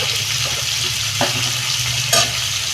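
Papaya curry with chilli and sugar sizzles steadily in a frying pan as it is sautéed, with close stirring scrapes and occasional sharper clacks of the spoon against the pan.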